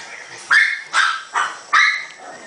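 Dogs housed in old horse stalls converted into kennels at a Waimanalo puppy mill bark four times in a fairly even rhythm, sharp and nearby, with no voices.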